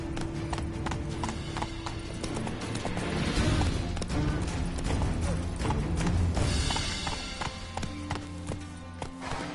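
Roach, a horse in The Witcher 3, gallops in fast rhythmic hoofbeats over a continuous game score, loud and close, with a brief whinny and some clattering, no talking.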